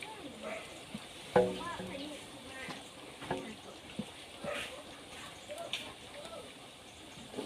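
Bananas deep-frying in hot oil sizzle softly and steadily, with occasional louder clatters and stirring sounds close by, while people talk quietly.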